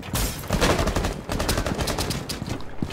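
Rapid gunfire in the Rainbow Six Siege video game, during a hostage match on the Bank map. Loud bursts of automatic fire crackle, then a short pause, and more staccato shots follow.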